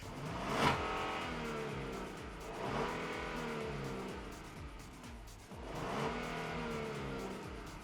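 A 2022 Genesis GV70 SUV gives its engine and exhaust note in three rising rev sweeps, each swelling and then falling back. The sound is moderately loud and close, with no speech over it.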